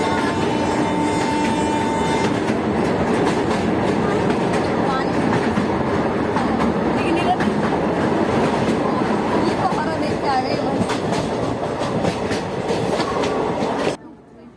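Shramjeevi Superfast Express with ICF coaches running near the Yamuna river in Delhi, a loud continuous rumble of wheels with steady clickety-clack rhythm throughout, ending abruptly.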